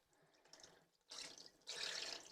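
Dirty water is poured out of an ultrasonic vegetable cleaner after soaking produce, beginning as a soft trickle and then becoming two louder, closer gushing pours.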